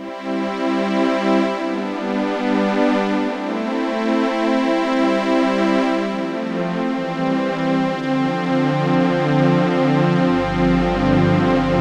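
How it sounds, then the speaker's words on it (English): A lush, sustained analog-style synthesizer string pad programmed on a Korg Kronos 2, with a buzzy, slightly detuned sawtooth tone and some modulation, plays slow chord changes, rich and continuous, with no voices. "it's basically a string sound, and so it sounds like this"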